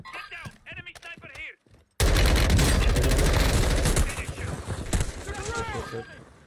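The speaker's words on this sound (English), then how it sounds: "Enemy sniper" Rapid bursts of sniper and automatic gunfire in a Warzone 2 firefight ring out loud and dense for a couple of seconds after a short stretch of players talking, then fade into scattered shots with voices chattering over them.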